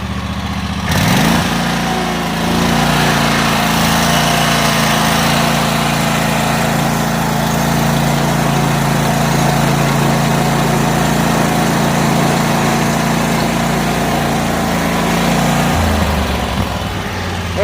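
Bad Boy riding lawn mower engine starting up and holding a loud, steady running drone close by for most of the stretch, then dropping in pitch near the end, with no voices.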